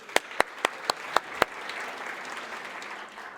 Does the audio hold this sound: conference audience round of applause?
yes